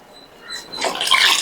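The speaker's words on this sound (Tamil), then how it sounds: "இன்னும் கொஞ்சம் தண்ணியை விட்டு வளாவிடலாம்." Water is poured into a pot of Mysore rasam, a soft trickle that swells into a louder, splashing gush partway through. The pour is close and brief, with no talking.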